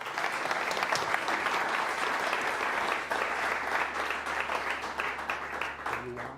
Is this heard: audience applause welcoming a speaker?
yes